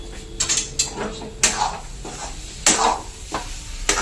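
A spoon scrapes and knocks against a pan while stirring a thick, drying coconut mixture for coconut vadi, in a few separate close strokes over a low background hum.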